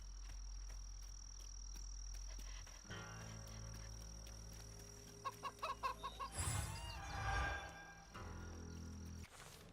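Chickens clucking and croaking amid insect-like chirps in the video game South of Midnight, a short run of rhythmic clucks over a steady ambient hum, then a louder burst of activity.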